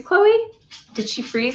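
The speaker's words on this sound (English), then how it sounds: "And that's my dog" A pet dog gives a brief high whimper indoors during an online writing session, followed by people talking.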